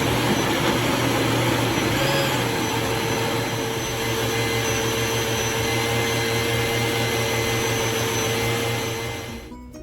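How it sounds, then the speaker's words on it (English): Close, loud and continuous, an electric blender whirs at full speed as it purees pepper and onion for Nigerian buka stew, then winds down at the end. "So I already transferred the pepper into the blender."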